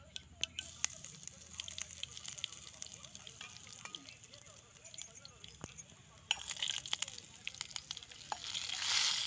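Cumin seeds sizzle in hot oil in a pan while rasam is being made. A continuous crackling fry with scattered sharp pops builds louder toward the end, with voices talking nearby.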